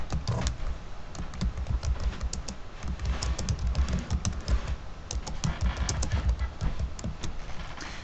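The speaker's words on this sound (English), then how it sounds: "I'm going to type my email address right here really quick" Rapid typing on a computer keyboard fills the whole stretch with close, crisp key clicks in uneven bursts and short pauses, with no talking.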